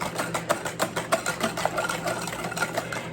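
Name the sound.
whisking melted butter into lemon curd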